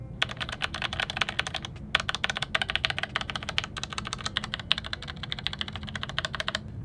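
Fast, steady typing on a Logitech computer keyboard, dense clicks of individual keystrokes heard up close and alone, with one brief pause near the two-second mark.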